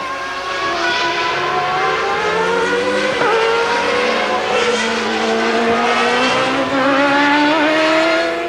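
Formula One race cars from the 1995 Grand Prix season scream past in a loud, continuous engine wail, their rising and falling pitch overlapping as several cars race close together.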